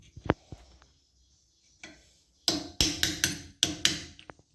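Cap being pried off a fork piston from a Honda XR650R during a fork rebuild, a few sharp metallic taps and clicks followed by a quick run of close, loud clicking strikes.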